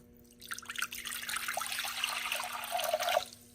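Water is poured from a container into a pot on a 1800W Sandoo HA1897 induction cooktop, a soft, close splashing and trickling lasting about three seconds over a faint steady hum, with no talk.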